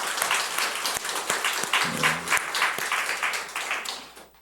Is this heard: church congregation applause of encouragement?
yes